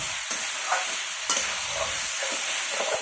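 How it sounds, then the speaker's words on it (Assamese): Chicken, potato and radish frying in a kerai for a chicken curry, a steady close sizzle broken by a few scraping stirs, with no one talking. "আৰু এইখিনিৰ লগতো মই অকণমান ফ্ৰাই কৰি ল'ম 5 মিনিট।"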